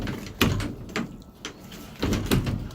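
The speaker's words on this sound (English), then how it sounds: "The doors work." The doors of an engineless U.S. mail truck in a junkyard are opened and shut. Several close, dull thuds and latch clunks come in an uneven rhythm with scraping in between.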